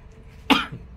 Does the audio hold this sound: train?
no